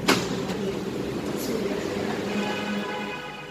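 A Bangkok MRT Purple Line metro train stands at a station platform, giving a steady, fairly loud rumble of motors and ventilation with a brief clunk at the start and a rising electric tone near the end.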